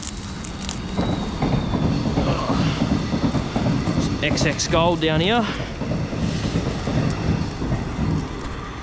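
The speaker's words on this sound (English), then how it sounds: "There's a train coming." A train passes nearby on the rail line, a steady rumbling roar with wheel clatter and a squealing, wavering screech of wheels, while someone talks over it outdoors.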